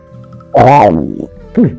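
A voice imitates a tiger's growl, one loud rough vocal burst followed by a short rising snarl, close and alone with no other talk.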